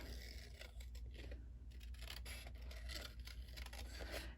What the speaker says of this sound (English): we're just going to fussy cut that right out of here